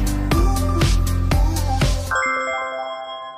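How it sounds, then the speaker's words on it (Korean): A Love Alarm app alert rings out as a bright chiming tone pulsing in an even rhythm of about five strikes, then a sustained ringing tone that fades away. "아직도 선호가 내 좋아할람을 울린다"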